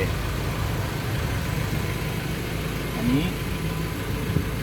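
A 2013 Ford Ranger four-door automatic pickup truck engine idles steadily with a low, continuous rumble, while a person speaks briefly over it.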